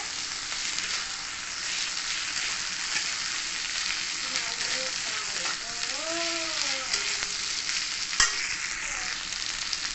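Yardlong beans frying in a pan with a continuous sizzle and occasional stirring scrapes; a brief faint voice and a sharp clink near the end.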